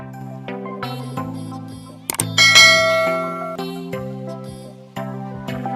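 A notification bell sound effect rings once as a bright, ringing ding that decays slowly, set within light background music.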